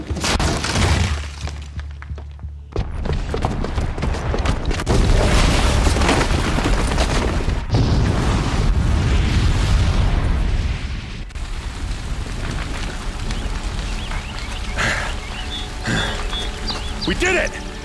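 A booby-trapped bomb goes off in the video game Horizon Zero Dawn, with loud deep booms, shattering debris and rumbling bursts that continue for several seconds. Voices are heard over the blasts.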